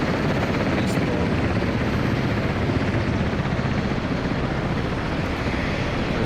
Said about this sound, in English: RB's taking off with their helis.